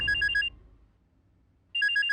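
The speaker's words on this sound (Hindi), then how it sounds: "पता नहीं कौन फोन कर। किसका फोन है?" A telephone rings indoors with an electronic ringtone: a loud, rapid trilling burst, about half a second of quiet with a low murmur, then the same trill again, alone with no voices.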